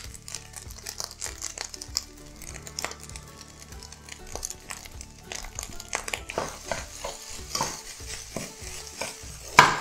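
Yakimeshi, Japanese fried rice with iceberg lettuce, is stirred and scraped around a hot pan, giving steady close clatter and spatula scrapes over a soft continuous sizzle.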